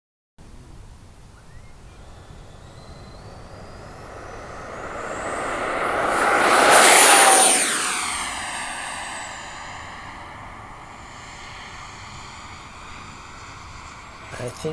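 Twin 64mm EDF Freewing F-14 Tomcat RC jet on its maiden flight, a loud ducted-fan whine that swells as it climbs and passes close at mid-clip, then drops in pitch and fades into the distance over steady wind noise.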